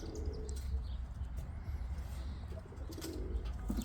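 Pet pigeons, a flock of young and two-year-old cocks, coo steadily at close range over a constant low rumble of background noise, with faint chirps mixed in.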